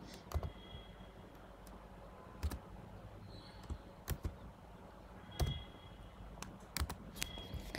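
Captcha code is typed on a computer keyboard: quiet, scattered key clicks in small irregular bursts over a faint background hum.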